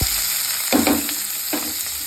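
Mustard seeds and fenugreek frying in hot oil for a South Indian tamarind curry, a steady sizzle with two brief louder crackling bursts as seeds pop, close and alone without talk.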